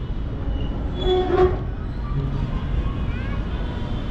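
A commuter train pulling into Banani station in Dhaka, its steady rumble lifted by a short horn blast partway through, with faint background voices.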